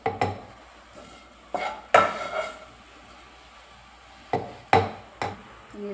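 Fried whole spices such as cinnamon, cloves and cardamom clatter into a metal mixer jar in a home kitchen, a handful of sharp, close knocks and rattles spaced out amid quiet.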